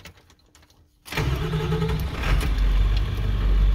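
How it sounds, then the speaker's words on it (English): A Ford 7.3L Powerstroke diesel engine with a P1280 fault code cranks and fires after a second of near silence, then settles into a loud, rough, close diesel idle. "We'll start this thing up."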